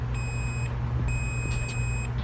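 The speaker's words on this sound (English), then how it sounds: "when the 2 leads touch, makes a beeping sound" A multimeter on continuity test beeps with a high, steady electronic tone while probing Corvette door wires, two separate beeps of about half a second and one second over a low background hum.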